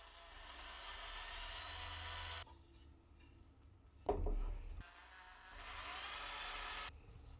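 A drill whines steadily for a few seconds while drilling holes in a wood picture frame, stops for a clunk and a bit of handling, then runs again; fairly quiet overall.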